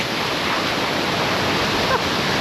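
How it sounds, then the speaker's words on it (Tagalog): Loud, continuous roar of heavy surf crashing close by at Bisibis Falls in Mauban, Quezon, a dense wash of broadband water noise with no pauses. "Palakas ang palakas yung alon."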